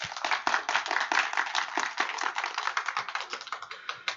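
Audience applause at a final project presentation for an AI training course, heard as dense, fairly quiet clapping with sharp, rapid hand claps throughout.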